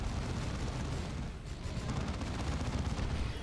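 Battlefield roar of gunfire and artillery in the strategy game Dawn of War II: Chaos Rising, a dense, continuous low rumble of explosions and shots with no distinct individual blasts, steady and loud throughout.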